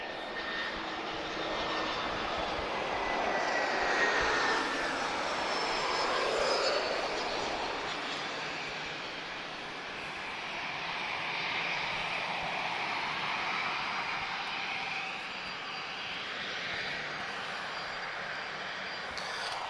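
A first-generation Airbus A320-214 passenger jet, an EasyJet Europe arrival from Barcelona, roars steadily at Lisbon Airport, its engine noise swelling and fading as it passes at moderate distance for about twenty seconds.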